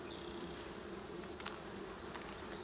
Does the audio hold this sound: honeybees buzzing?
yes